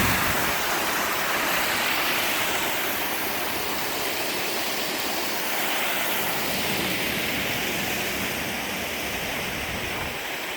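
Water pouring over the spillway of Gull Lake Dam makes a loud, steady roar of broadband rushing noise that holds constant throughout with no pauses.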